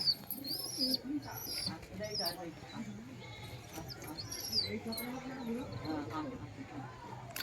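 Pigeons being fed rice give soft, repeated coos and calls nearby outdoors over a busy background of other animal bleats and indistinct voices.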